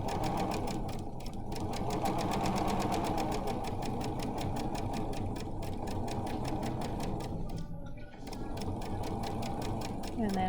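A sewing machine stitches a fabric bookmark with a steady, rapid mechanical chatter. It pauses briefly twice while the needle is lowered and the fabric is pivoted, and a voice talks over it.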